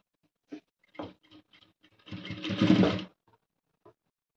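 A sewing machine stitches blouse fabric in a short burst of rapid mechanical clatter lasting about a second, with a few light isolated clicks and taps before and after it.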